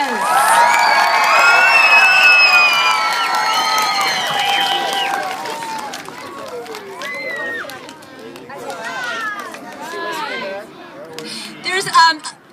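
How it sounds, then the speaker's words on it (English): A crowd at a community event cheers and whoops loudly in a burst that fades after a few seconds, then scattered shouts and children's voices carry on amid lively chatter. "Give him another round of applause."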